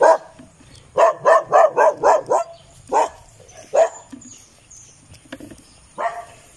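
Dogs bark in a quick run of sharp, loud barks on a mountain trail, then a few scattered barks follow at intervals, fairly close, with faint birds in the background.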